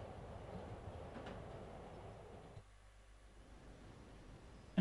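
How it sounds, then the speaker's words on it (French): Subway train in the Spider-Man video game, a steady rumbling rail roar with a faint rhythmic clatter that drops to a quieter hum midway, no talk over it. "Il prend le métro Spider-Man et tout."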